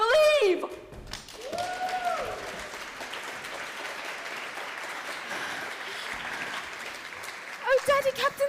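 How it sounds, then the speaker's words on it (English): Theatre audience applause during a stage performance of Peter and the Starcatcher, a steady wash of clapping sustained for several seconds, with actors' voices calling out at the start and end of the applause. "Clap if you believe!"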